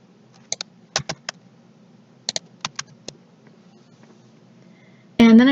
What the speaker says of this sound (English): I'm going to start by typing the code for our if statement.